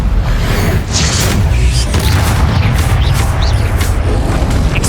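Loud, dense magical blast from the Confringo fire spell in Hogwarts Legacy, a booming rumble with whooshing crashes that stays continuous across the whole stretch amid chaotic combat.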